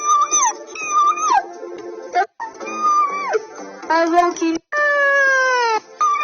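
A melancholy pet dog howls in long wavering, singing tones, several rising and falling runs with short breaks between them, close and loud, with a person's voice briefly heard over it.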